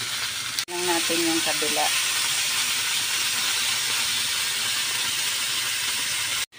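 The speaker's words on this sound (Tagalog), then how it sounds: "nag-umpisa na tayo magluto" Pork grilling over heat, giving a loud, continuous broadband sizzle and hiss that fills the whole stretch, with a brief spoken phrase near the start and a sharp cut near the end.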